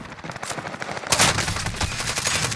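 Rapid automatic gunfire in Warzone crackles in close, dense bursts, with a sharper, louder volley about a second in and sustained shooting after it.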